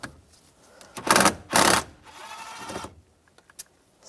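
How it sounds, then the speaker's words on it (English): A ratchet turns a T25 socket to back a screw out of a 1999-2006 Chevrolet Silverado 1500 steering column, giving two loud bursts of rapid clicking followed by softer, lighter clicks. "Take this screw out right here. You're going to use a T25 socket."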